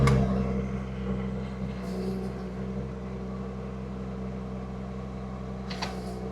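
A Huayee SHY12 mini excavator's engine drones steadily at raised throttle, a low continuous mechanical hum up close, with a couple of brief hydraulic hisses.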